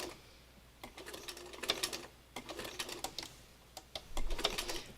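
A sewing machine stitching slowly around a tight curve, running in short bursts of rapid mechanical clatter that stop and restart every second or so, close and moderately loud.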